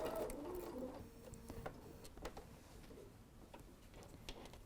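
A sewing machine stitches and backstitches across a fabric face mask with elastic, a quiet, faint mechanical whir. Soft ticks and small clicks come in short runs.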